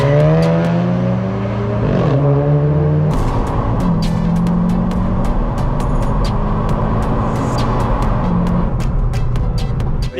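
A Seat Leon Cupra accelerating hard on a track, engine note climbing through the gears with brief dips at each shift, loud and steady from inside the cabin.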